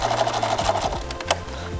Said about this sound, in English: now we can throw this back into the machine and put it like this and give it a better stitching